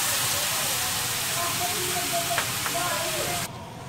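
Chocolate syrup mixture with milk cooking in a pan gives a steady, even hiss and sizzle that holds throughout, then drops slightly in level near the end.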